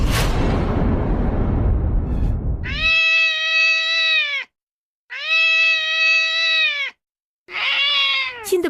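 A cat cries with three drawn-out, wailing meows, loud and close, following a brief rushing whoosh; no one speaks.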